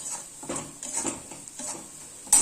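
Paneer bhurji sautéing in a pan with browned onion, red chili powder, salt and turmeric: soft sizzling under a few scraping stirs of a spoon, close and fairly quiet, ending in a sharper clink.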